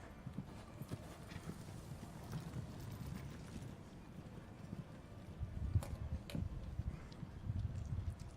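Horse hooves clip-clop steadily at a canter during a combined driving event, a continuous rhythmic beat at moderate distance with no talk.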